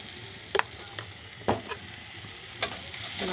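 Salted potatoes fry and get stirred in a pan, with a steady sizzle beneath a few sharp scraping clacks of the spoon against the metal.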